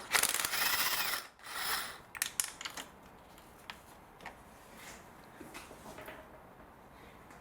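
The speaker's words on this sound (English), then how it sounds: "with a 10mm socket, we're going to undo all these little nuts" A 10mm socket on a ratchet loosens small nuts over the coil packs of a BMW six-cylinder engine, heard as a close burst of handling noise followed by scattered quiet clicks and taps.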